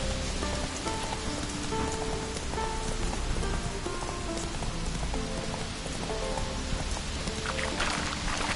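Video game rain in a PS4 broadcast of Ragnarok, a dense, steady hiss of falling drops on surfaces, continuous and fairly loud, with faint tonal sounds underneath and no talking.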